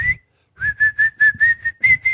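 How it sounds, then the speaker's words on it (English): A person whistles a short, bright tune of quick repeated notes with a brief pause near the start, close and clear with no talking. "Why are you whistling?"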